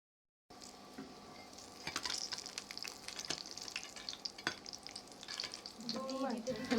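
Chicken buns drop one at a time into hot oil, setting off a soft, steady sizzle with scattered sharp crackles and pops that swell louder near the end.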